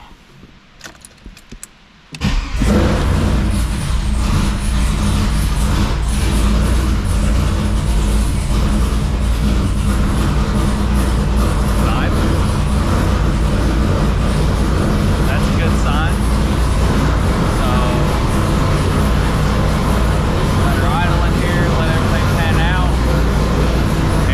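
A 2002 WS6 Trans Am V8 cranks and fires after a new tune, jumping from quiet into a loud, steady idle rumble that runs for over twenty seconds up close.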